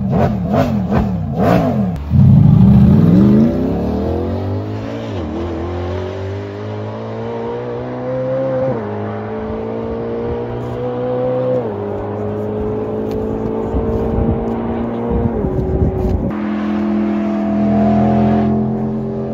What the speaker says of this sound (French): tout ce que vous pouvez entendre, c'est ce moteur V16 qui hurle comme un lion enragé